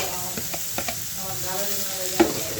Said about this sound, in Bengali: শাকটা তেলের সাথে একটু ভালোভাবে মিক্স করে নেব